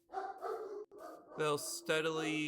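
German Shepherd dogs barking in a rapid burst of yaps, fairly close, with a louder, more tonal stretch of sound and possible voice mixed in toward the end.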